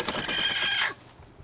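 A chicken on a free-range family egg farm gives one brief call lasting under a second, moderately faint, then quiet background with no talking.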